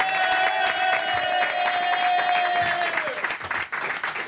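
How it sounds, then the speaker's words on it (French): A large audience applauds loudly and steadily in a radio studio, the clapping dense and sustained before thinning out near the end; a sustained tone sounds underneath at first. "Applaudissements"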